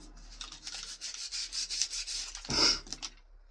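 An 80 grit power sander grinds steadily against a model bus, a harsh continuous rasping that swells louder near the end before cutting off, with no talking.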